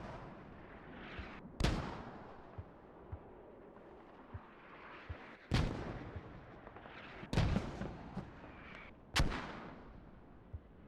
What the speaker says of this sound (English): These mortars are keeping the people down on the north.